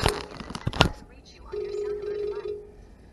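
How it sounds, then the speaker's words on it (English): A telephone rings once in a steady, sustained tone at moderate volume in a home, preceded by a few sharp knocks or clatters, with a person speaking around it. "I have to answer the phone."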